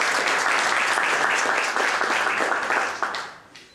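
Audience applause at a press conference, a dense, steady wash of many hands clapping close by that thins and fades out near the end.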